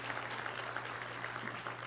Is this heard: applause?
yes